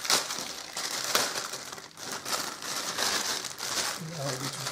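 Crinkling plastic bag holding new gaskets for a Suzuki DL1000 V-Strom motorcycle, handled close up as a steady rustle with a few sharper crackles, with a voice talking over it.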